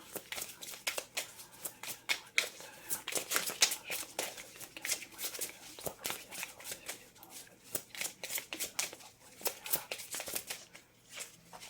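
Tarot cards are shuffled and drawn by hand in a close, continuous run of crisp riffles, flicks and slaps that comes in uneven bursts over about twelve seconds.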